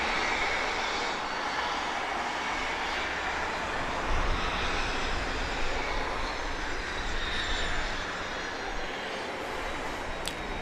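Airliner from the Cincinnati area, sounding as a continuous heavy engine rumble and roar, loud and sustained throughout with no voices.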